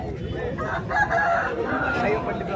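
A rooster crows at a busy fowl market in Vijayawada, a drawn-out call rising over a dense bed of crowd noise and background chatter.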